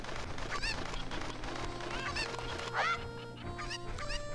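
A village chicken clucks in The Legend of Zelda: Ocarina of Time, a few squawking game calls over a steady background of in-game music and ambience.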